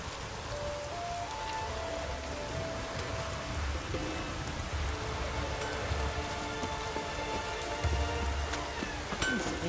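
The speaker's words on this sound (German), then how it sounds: "Es regnet schon wieder." Steady rain pattering on surfaces in the video game The Witcher 3, a continuous wash of drops with faint tonal ambience underneath.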